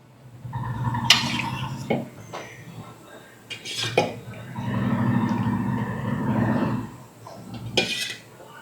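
A utensil stirs and scrapes in a metal vessel as strained jaggery syrup is gradually mixed in, giving close, clinking strokes and rattles in irregular bursts with short pauses between.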